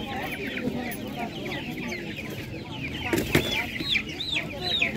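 Poultry at an animal market, including ducks, cluck and chatter steadily at close range, with a louder burst of calls partway through and talk faintly in the background.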